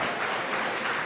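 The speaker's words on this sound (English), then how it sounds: "as you can hear the crowd behind me" A crowd applauding and cheering at a SpaceX Falcon 9 launch of the CRS-20 Cargo Dragon, a steady wash of clapping heard close and continuous throughout.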